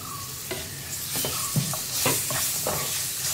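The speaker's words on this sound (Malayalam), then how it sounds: "തക്കാളി കട്ട് ചെയ്തതും കൂടി ചേർത്തിട്ട് നന്നായിട്ടൊന്ന് ഇളക്കി മിക്സ് ചെയ്യുക." Chopped tomatoes stirred into a hot pan for kadala curry, a continuous sizzle broken by several scraping stir strokes of a spoon, close and alone.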